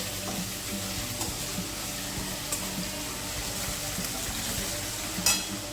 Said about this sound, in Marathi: हे टाकायचं तेलामध्ये परतून घ्यायचं